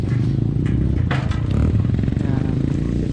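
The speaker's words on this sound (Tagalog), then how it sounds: "Okay, unloading na ng motor." A motorcycle being unloaded at a track in Tuba, Benguet, with scraping, clattering thumps and low engine rumble throughout, and people talking nearby.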